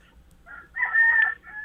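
A rooster crows once in a drawn-out call, fairly clear and close, over faint low rumble with quiet clucking before it.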